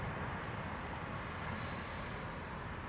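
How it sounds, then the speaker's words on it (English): A private jet's engine roars steadily at Long Beach Airport, a broad continuous rumble that stays loud and even throughout with no talking. "Oh, we got another private jet."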